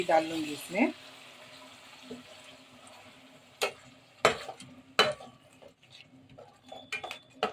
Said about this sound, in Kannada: ಇದನ್ನು ಚೆನ್ನಾಗಿ ಕುದಿಸ್ಕೊಳ್ಳೋಣ ಎಣ್ಣೆ ಬಿಡೋ ತನಕ ಇದನ್ನು ನಾವು ಕುದಿಸೋಣ